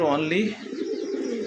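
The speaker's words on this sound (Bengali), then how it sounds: "দেখেন কবুতরের ডাকটা দেখেন, নরের ডাকটা দেখেন" A male Satin pigeon coos in a sustained, throaty rolling call close by, starting strongly then continuing under a brief spoken word.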